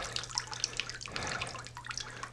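Water drips and trickles off a freshly washed Muscovy duck, a dense patter of small splashes and droplets with a low steady hum underneath, close and continuous throughout.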